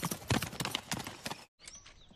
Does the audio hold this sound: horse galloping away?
yes